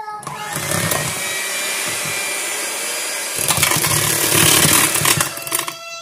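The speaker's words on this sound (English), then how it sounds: "guys, I got the blender right here." A blender motor whirs loudly and steadily while making no-bake Oreo cheesecake, briefly easing off then surging back up with a harsher, grinding tone before settling again.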